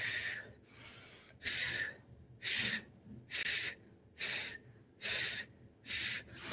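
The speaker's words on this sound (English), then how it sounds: "So you're breathing in and you're blowing out the opposite side where you placed your hand" A person breathing in and blowing out through the mouth during a face workout. Seven sharp, airy exhalations come at a steady rhythm about once a second, close to the microphone, with quieter inhales between them.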